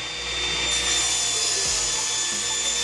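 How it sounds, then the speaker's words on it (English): A saw cuts a wooden board for a flower planter, giving a close, steady, harsh rasp over a low motor hum for roughly three seconds, with no talking. "We're going to cut a 17 inch long board."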